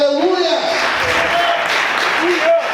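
A church congregation applauds loudly at a night service, a dense wash of clapping with a voice speaking over it near the end.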